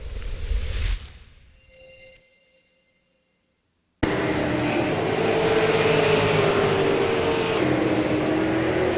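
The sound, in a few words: race cars in a replay from an esports racing video game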